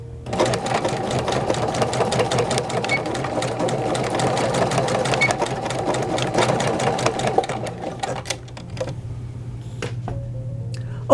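A sewing machine stitches the elastic waist of pants with a fast, steady mechanical whir and ticking, running close and continuous before slowing and stopping near the end.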